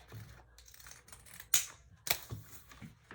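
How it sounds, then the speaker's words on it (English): Pinking shears snipping through two layers of heavy fabric while sewing a tote bag, two sharp crunching cuts standing out close and clear against a quiet room. "This is about the maximum of my pinking shears, 2 layers of this heavier fabric."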